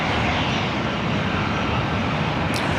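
A Delta Airlines Airbus A320, delivered in 2002, roars at LAX airport with a loud, close, continuous engine rumble and rush that holds steady throughout.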